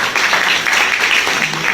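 An audience at a business plan presentation claps together in a dense, steady burst of applause that lasts throughout, with a faint voice underneath.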